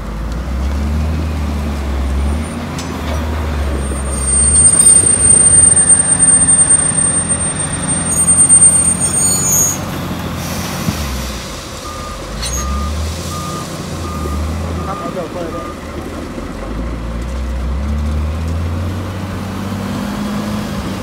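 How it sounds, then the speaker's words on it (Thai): A wheel loader works at a stone yard loading rock for a DD51 locomotive train, its engine droning steadily while repeated reversing beeps sound and traffic-like rumble fills the background. "เดี๋ยวรถตักนะครับจะทำหน้าที่เอาหินไปใส่เจ้า DD51 นะครับ"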